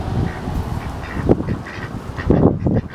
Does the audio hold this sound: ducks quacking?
yes